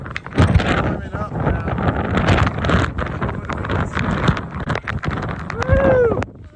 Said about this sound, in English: Woo! It's windy, it's cold.